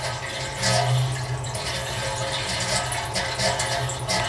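Liquid siphoning through a dip tube in a homebrew keggle, a steady gurgling, trickling flow with a low hum, continuous and close.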